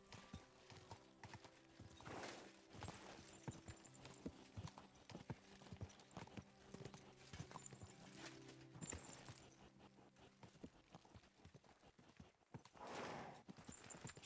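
Horse hooves clip-clop steadily as a rider travels in the Kingdom Come 2 video game, a continuous rhythmic thudding under game ambience with occasional louder swells and brief whinny-like tones.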